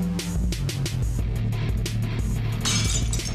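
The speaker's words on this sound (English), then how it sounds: "a paper broke a window and it went through one of the crevices" Window glass shatters in the Frenzy VR video game: a bright, crashing break scatters into tinkling shards, with a fresh burst of splintering glass near the end over a steady game background.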